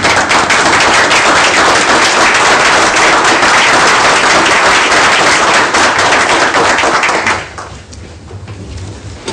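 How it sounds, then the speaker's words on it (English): Sustained applause from a standing audience at a city Board of Mayor and Aldermen meeting, loud and dense clapping that continues for about seven seconds before dropping away to a quieter room. "I think it'd be appropriate first to stand up and applaud them."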